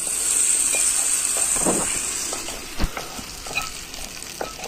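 Hot tempering with dried red chilies is poured in and stirred, giving a close, loud hissing sizzle that settles into quieter frying crackle, with scattered spoon taps and no talk.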